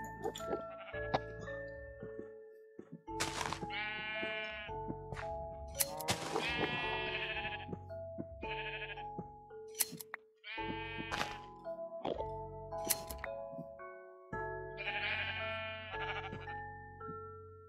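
Several Minecraft sheep bleat in a steady series of loud, close, nasal calls overlapping one another across the scene, with game tones in the background and no talk.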